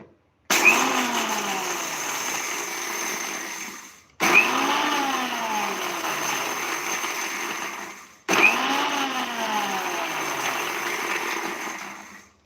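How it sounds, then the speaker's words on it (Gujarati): A kitchen mixer grinder jar pulsed three times in short bursts to coarsely grind a samosa filling, each burst a loud whirring motor run of about four seconds with brief silent gaps between. "અહીં આપણે મિક્સર જારમાં ચાલુ બંધ ચાલુ બંધ કરી અને દર દરો પીસશું"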